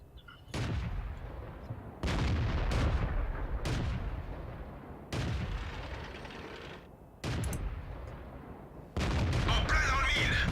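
A tank cannon fires repeatedly in World of Tanks, about six heavy booming shots spaced a second or two apart, each a loud close blast with a long rumbling decay.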